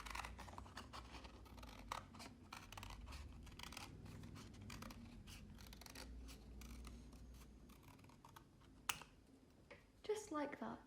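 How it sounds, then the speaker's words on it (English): Scissors snip through card to cut out a circle, a faint run of small clicks and crunches close by with a low background hum and a sharper snip near the end. "The next step is to cut out this circle using your scissors."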